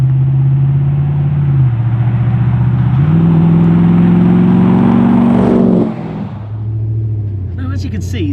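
A 550hp LS3 V8 Land Rover Defender by Squire Editions revs loudly up close, its deep rumble rising in two steps before dropping back to a burbling idle, with a voice briefly at the end.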